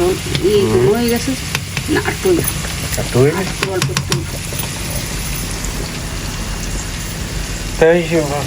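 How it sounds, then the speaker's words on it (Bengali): Onions fry in a pan with a steady crackling sizzle and stirring, while people talk over it in Bengali throughout. "আমাদের পেঁয়াজ ভাজি হয়ে গেছে"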